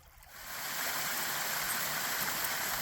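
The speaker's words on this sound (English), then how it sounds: "we've made it down to the little stream or branch that we need to be following" A small forest stream in Kentucky flows with a continuous gentle rushing babble that swells in quickly during the first second and then stays level and close.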